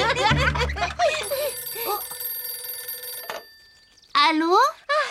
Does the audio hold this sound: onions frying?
no